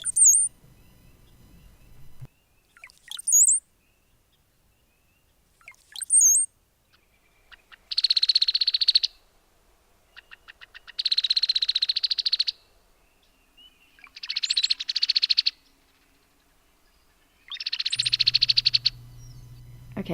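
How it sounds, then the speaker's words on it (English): Brown-headed cowbird calls come as several short bursts of high-pitched squeaky whistles separated by silence. A faint voice is heard at the start and end. "that's the brown-headed cowbird"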